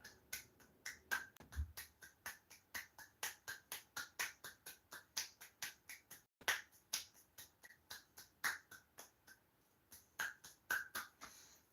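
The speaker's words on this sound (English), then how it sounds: "I'm gonna clap like that, and then once it's over, we'll get back to it." Steady hand claps count out a slow indoor tally in a room, sharp and evenly spaced at about two per second, quiet and continuous with a few louder claps and no talk.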